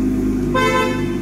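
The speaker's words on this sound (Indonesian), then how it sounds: "dan ini bunyi klaksonnya" A 2018 BMW M2 car horn sounds once in a short, bright toot halfway through, over the steady low rumble of the running engine.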